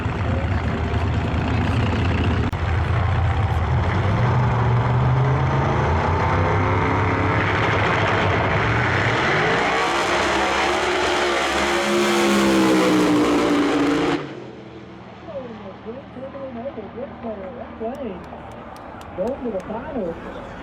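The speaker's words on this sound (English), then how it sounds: "I have the twin turbo Nova over here in the left lane. Going up against the Nova." A twin-turbo Chevrolet Nova roars off the line in a small-tire no-prep drag race, engine loud and rising through gears for several seconds before cutting off and fading, with crowd noise and a commentator talking throughout.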